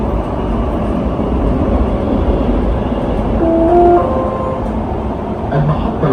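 A metro train rumbles steadily at a station platform, with a loud, continuous low roar and a few brief tonal whines from the rails or brakes, and no voices.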